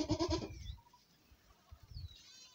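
Goats on a Kenyan farm bleat, with one loud close bleat at the start, then fainter bleats and shuffling farther off.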